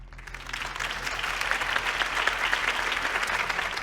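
Crowd applause at a Harvey Dent campaign rally in Batman: The Telltale Series, a broad, steady wave of many hands clapping that swells slightly and holds, with no voices over it.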